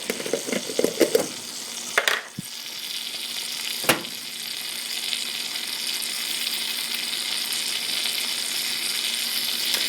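Bitter gourd (goya) and tomato cook in a pan. A few scrapes and clatters at the start give way to a loud, steady sizzle of frying that runs to the end.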